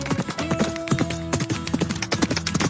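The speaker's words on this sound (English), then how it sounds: "It's a horse." Horse hooves clip-clop in a quick, steady rhythm, close and clear, with no voices.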